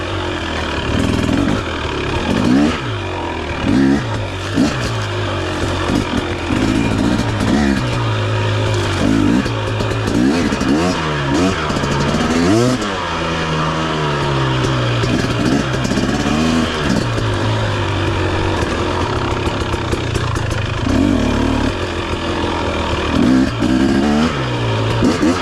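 A 2023 KTM 250 XC dirt bike engine revs repeatedly off mid-range, loud and close, rising and falling in a warbling two-stroke drone with sputtering blips between pulls.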